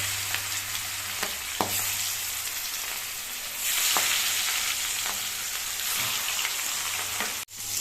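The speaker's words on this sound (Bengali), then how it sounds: "বোয়াল মাছ কিন্তু খুব সাবধানে ভাজতে হবে, খুব তেল ছুটছে" Boal fish pieces fry in hot oil with a constant close sizzle, scattered sharp spattering pops and a brief louder burst, then a sudden clunk near the end, no voices.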